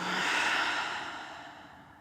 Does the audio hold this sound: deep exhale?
yes